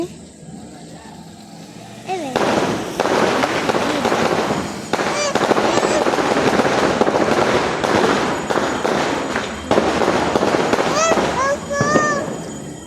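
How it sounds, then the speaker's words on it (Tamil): Firecrackers burst in dense, rapid crackling volleys at a Ganesha temple festival bonfire, loud and sustained for several seconds with scattered sharper pops and whistles over a steady background din. "கோயிலெல்லாம் வெடி வச்சு வைப்பாங்க டப்பு டப்புன்னு வெடிக்கும்"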